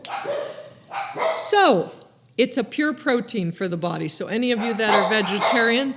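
Dogs bark and yip indoors in repeated sharp bursts with whimpering, loud and close, breaking in over someone talking steadily.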